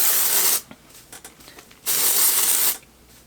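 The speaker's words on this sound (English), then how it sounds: "So you just spray" Dry shampoo aerosol sprayed onto a synthetic wig: two long, close hissing bursts separated by a pause filled with light rustling, no voices.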